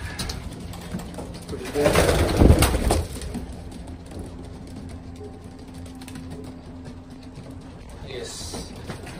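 Racing pigeons cooing inside a loft, soft repeated coos with wing flutters and a louder rustle early on, as someone talks over them.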